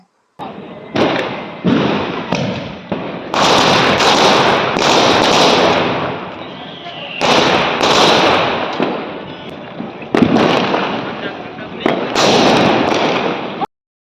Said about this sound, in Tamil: நைட்டு வந்து பட்டாசு வெடிக்க ஸ்டார்ட் பண்ணிட்டோங்க